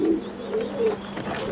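Racing pigeons coo in soft, rolling calls, close and fairly loud, repeating several times over a steady background hum with no talking.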